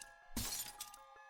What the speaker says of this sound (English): Someone smashes my Pokécom screen with the butt of their gun.